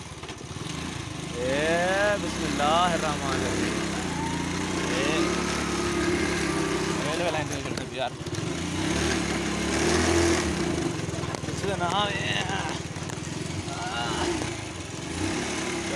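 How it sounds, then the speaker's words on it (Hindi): A motorcycle engine runs steadily after being started beside a railway line, a constant close mechanical drone heard under talking voices throughout. "हम मोटरसाइकिल को स्टार्ट कर दी"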